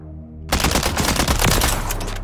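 Rapid, continuous automatic gunfire from a custom weapon loadout tested on the Warzone video game's firing range, starting abruptly after a low hum and blasting loudly without pause to the end.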